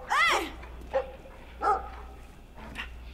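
A dog in the video game Brothers barks a few times, short separate woofs and yips spaced over a few seconds, moderately close with a low background hum.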